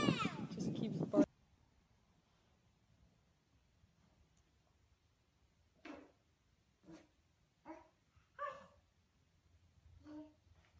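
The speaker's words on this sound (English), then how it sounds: "she came over here, sat down right next to me, and just keeps barking." Husky giving several short, separate barks and yips at moderate distance in a quiet room, after a brief loud burst of noise at the start.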